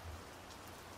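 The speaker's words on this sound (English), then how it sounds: "It is raining pretty hard." Heavy rain falls in a steady, dense hiss with no break, faint and even, and no voices are heard.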